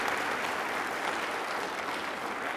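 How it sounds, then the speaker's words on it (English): An audience at a reconciliation award ceremony in British Columbia applauds in a steady, dense wash of clapping that stays even and fairly distant for a couple of seconds, with no voices over it. "Let's just hear one amazing round of applause for these people"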